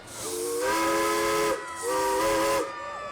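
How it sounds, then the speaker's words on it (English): A steam locomotive whistle at the Toms River Halloween Parade sounds two long, loud blasts separated by a short gap, with a hiss of steam under each blast. "they actually heard the steam engine during the parade"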